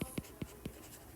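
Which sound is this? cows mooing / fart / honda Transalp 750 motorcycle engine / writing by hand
writing by hand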